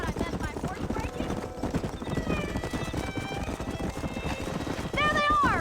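In the video game Red Dead Redemption, rapid galloping hoofbeats pound steadily under shouting voices, and a horse whinnies loudly near the end.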